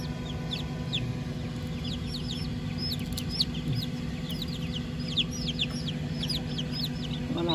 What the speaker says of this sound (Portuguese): Vou lá com a mamãe galinha.